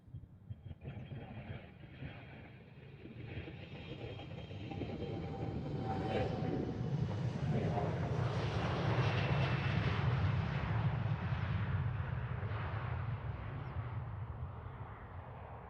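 KLM Boeing 777ER jet airliner engines at Amsterdam Schiphol Airport, a broad distant roar that swells and holds steady as the aircraft passes, with no talking.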